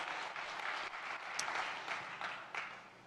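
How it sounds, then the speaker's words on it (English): An audience at a startup festival session claps in a dense, sustained round of applause that swells and fades slightly, with no talking over it. "Big round of applause"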